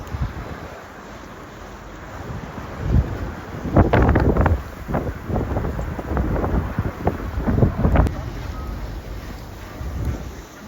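Strong gusts of wind, around 50, buffet the microphone in heavy, rumbling bursts that swell and subside unevenly, high on a snowy ski mountain at Jay Peak, Vermont.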